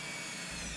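Power drill with a feed screw bit boring through the last of a wooden top plate during residential retrofit wiring work, a loud continuous grinding whir with a low thump as the bit pushes through.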